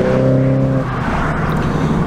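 A 2018 Mini Cooper JCW engine blips its throttle on a manual-gearbox downshift: a loud, close, droning engine note that shifts abruptly partway through into a rougher, broadband roar.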